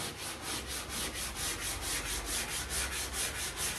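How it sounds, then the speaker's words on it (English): Rhythmic hand block sanding of a car body panel, a rough rubbing rasp repeating in quick even strokes, close and steady with no talking. "Keep sanding until it turns that lighter tan color."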